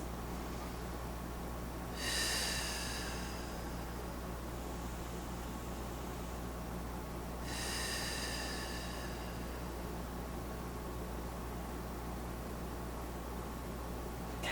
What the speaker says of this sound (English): Long, deep breaths.